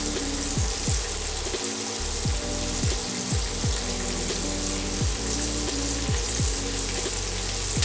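Chicken strips deep frying in hot oil give a loud, continuous bubbling sizzle throughout, with no voices over it.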